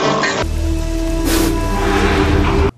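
Heavy rain pours during a night fight scene in the Thai action film Dynamite Warrior, loud and continuous, with a musical score faintly underneath.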